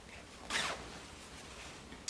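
A zipper on an extra-small clothing item pulled in one quick zip, close and quiet, followed by a soft brief rasp at the end in a quiet room.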